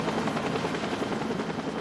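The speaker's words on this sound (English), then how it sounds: "A Mediflight helicopter was also dispatched from more than 50 miles away, along with a search and rescue helicopter." A Mediflight medical helicopter flies close by, its rotor beating loud and steady without a break.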